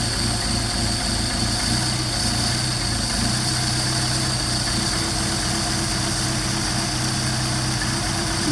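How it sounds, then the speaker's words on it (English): A Mercedes 190SL engine with Solex carburetors warms up at idle, giving a steady, continuous, fairly loud rumble with an even mechanical hum and no talking throughout. "warm up the engine"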